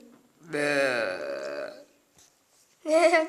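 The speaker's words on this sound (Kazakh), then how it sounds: "Осы бір кекір болсам ба деп тұрмын." A loud, drawn-out voiced burp comes from a person who has just eaten, close to the microphone, followed after a pause by a shorter second burp.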